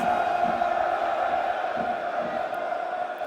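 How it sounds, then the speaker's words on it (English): A football crowd at Ashton Gate reacts to a free kick near the Millwall penalty area in Bristol City vs Millwall. A loud, sustained roar of voices carries on without a break, with shouts rising out of the mass. "This looks like a dangerous position, free kick. Left side of the Mill penalty area, 50 minutes, penalty's 51. Brought the crowd to life."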